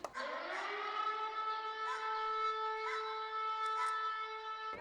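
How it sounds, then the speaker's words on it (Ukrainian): A loud air raid siren wails steadily with a sustained harmonic tone, faintly wavering in pitch, heard alone in wartime Ukraine before a sports flash mob. "війна одразу ж нагадує про себе повітряною тривогою"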